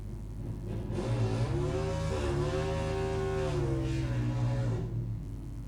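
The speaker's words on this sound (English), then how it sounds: "Walker on the big Harley now, the V-Rod Destroyer 1300 Harley motor in there" A Harley V-Rod Destroyer drag bike with a 1300 Harley motor revs at a drag racing meet, a loud sustained engine roar that climbs and falls in pitch and holds for several seconds.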